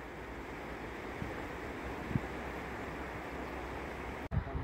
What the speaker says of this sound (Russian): Какая масса воды несется